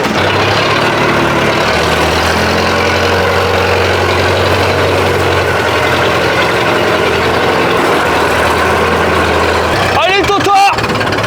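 An old tractor's engine runs at a steady, heavy idle close by, its low chugging continuous throughout. A sharper rattling burst comes near the end, and voices are faintly present.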